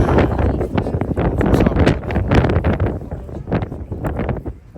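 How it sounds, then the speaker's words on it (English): Loud, steady wind buffeting a microphone, with continuous low roaring gusts throughout and no talking. "It's so windy."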